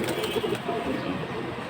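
Restless pigeons of show breeds, including big-headed silver birds, coo softly and shuffle in their loft, a steady low murmur with faint flutters and a bit of background talk.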